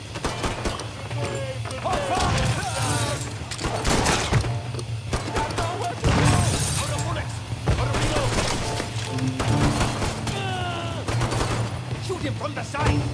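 A grenade explosion and steady gunfire in the video game Mafia III: Definitive Edition: continuous rattling shots and thumping blasts crowd the scene while voices shout over the noise.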